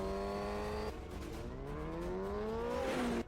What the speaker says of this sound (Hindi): यमाहा R1 बाइक हेलमेट के साथ क्रॉस कर रहा है